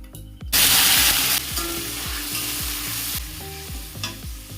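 Ginger, cumin and chilli hit a hot pan with a loud, bright sizzle, then settle into steady frying under rhythmic scraping stir strokes of a spatula.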